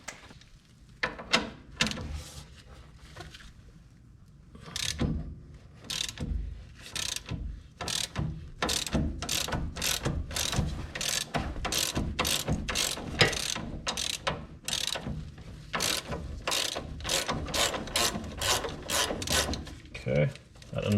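A ratchet wrench clicks through a long run of rapid, close pawl strokes while removing an axle nut on a 2.4 Honda Accord, with short pauses between bursts and faint speech nearby.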